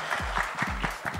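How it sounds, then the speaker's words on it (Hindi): Audience applause at a trailer launch event for the Bollywood film Badshaho, a dense, steady burst of clapping from a crowd heard briefly with a low hum beneath. "एक बार जोरदार ताली होनी चाहिए."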